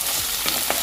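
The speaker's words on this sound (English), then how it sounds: "using my wooden spoon, I'm gonna mix everything again together" Home fries with onions stirred in a pan with a wooden spoon, a steady close sizzle with a few soft scraping stirs over less than a second.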